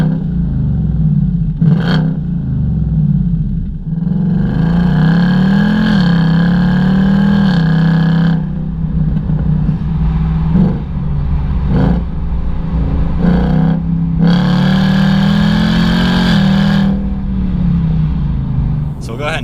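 A stock 2018 Ford Mustang GT V8 revs hard and close in a steady, throaty roar, climbing and falling in pitch over several blips, with a person talking over the engine throughout.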